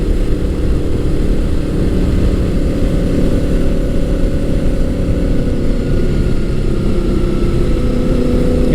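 Honda VFR800 V4 motorcycle, a fifth-generation 1998-2001 model, engine heard while riding on the road: a steady, loud low rumble with wind noise that holds constant throughout, no talking.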